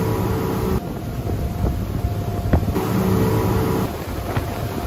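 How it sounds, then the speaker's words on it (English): A boat motor runs steadily, first with a standard propeller and then with a toroidal one, a loud continuous engine drone with a broad watery rush and a noticeable shift in tone partway through. "let's listen to a boat using a standard and toroidal one"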